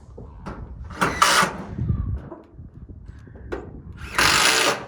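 A cordless drill drives screws into timber while a wood shed is built from scrap materials in Alaska. Several loud whirring bursts come close by, separated by softer knocks and handling noise.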